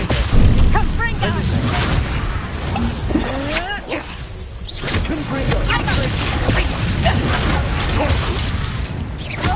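Confringo blasting curse explosion in the video game Hogwarts Legacy, shattering bursts and booms within busy combat noise, with voices talking throughout.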